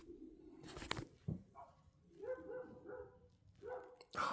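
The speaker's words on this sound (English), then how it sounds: "These dogs over here are yelling at my neighbor's dog." Several dogs barking and yelping at a neighbor's dog, in short scattered bursts at moderate distance, with some fainter yips in between.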